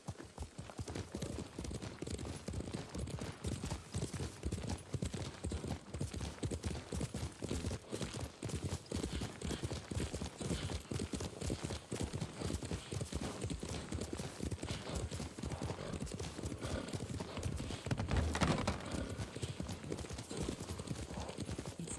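Horse hoofbeats while riding in the Ghost of Tsushima video game, a steady rhythmic clip-clop of hooves continuing throughout under ambient outdoor sound, with a brief louder bump near the end.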